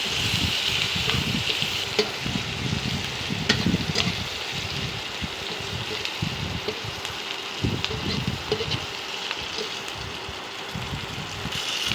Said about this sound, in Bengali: এবার আমি পেঁয়াজটা একটু ভেজে নেব।